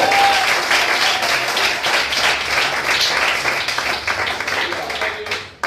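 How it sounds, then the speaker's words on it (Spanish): Loud, sustained audience applause at a church service, dense clapping from a large crowd filling the whole stretch before cutting off sharply at the end. "Denle fuerte ese aplauso."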